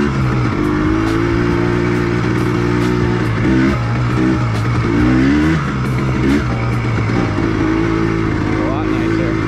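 Yamaha Blaster ATV with a freshly rebuilt engine riding a muddy trail, its engine note rising and falling steadily and close throughout, with a voice speaking over it at times.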